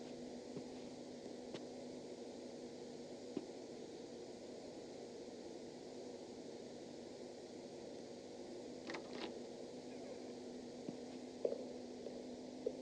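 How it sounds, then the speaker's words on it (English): Steady electrical buzz from a ceiling light or fan inside a building in the Paradise Nowhere pre-alpha game demo, a constant low drone with a faint hiss that holds at even loudness throughout, broken only by a few soft clicks and taps. "You hear the light buzzing or the ceiling fan buzzing?"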